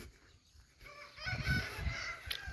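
Chickens in a henhouse in the early morning make a fairly faint, brief crowing call followed by clucking, without speech.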